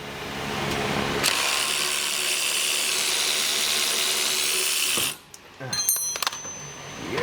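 A ratchet or power tool whirs continuously for several seconds while unbolting the front bumper from a 1990s Chevrolet Suburban truck, loud and close, then stops abruptly and is followed by clanking metal handling noises.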